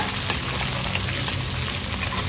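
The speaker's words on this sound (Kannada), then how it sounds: "ಚೆನ್ನಾಗಿ ಮಿಕ್ಸ್ ಮಾಡ್ಕೊಳ್ಳೋಣ ಕಟ್ ಮಾಡಿ ಇಟ್ಕೊಂಡಿದ್ದ ರೆಡ್ ಚಿಲ್ಲಿ ಮತ್ತು ಗ್ರೀನ್ ಚಿಲ್ಲಿ ಸೇರಿಸ್ಕೊಳ್ಳೋಣ" Ginger stir-fried with red and green chillies for chilli chicken, a steady dense sizzle and crackle of oil filling the pan, close and continuous with no voices.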